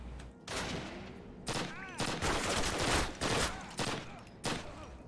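StG 44 (MP44) assault rifle fire in a video game, repeated loud bursts of rapid shots in clustered volleys with echoing tails, steady and dense throughout, a voice faintly underneath.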